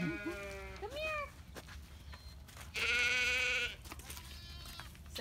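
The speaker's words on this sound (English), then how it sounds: "we have Ricky and Gizmo, two goats" Two goats at a muddy animal rescue farm bleat nearby in loud, wavering calls, one long cry standing out among shorter ones over low outdoor noise.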